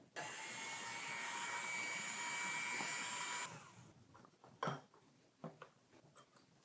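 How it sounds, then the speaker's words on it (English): An electric mixer blends crepe batter of butter and milk, a steady whirring drone for about three and a half seconds before it stops, followed by light clinks and taps of kitchenware. "I advise to use a mixer, electric mixer, to make sure that the blend"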